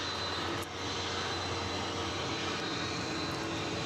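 A departing airliner climbs away from DFW Airport on a morning, its engines a steady, broad roar with a slight dip near the start, holding at a moderate distance with no talk.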